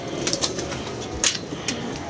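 Pigeons at a loft give brief calls and flutters, a few short bursts over a steady outdoor background, no talking.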